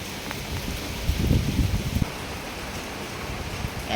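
Cyclone Remal's heavy rain and storm make a soft, steady wash of falling water, with a short burst of louder rustling or splashing near the start.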